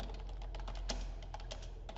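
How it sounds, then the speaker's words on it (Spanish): Fast, irregular clicking of keys on a computer keyboard during a classroom lesson, many light taps in a quick continuous run, close but fairly quiet over a low background hum. "al utilizar el teclado, pues ya escribimos"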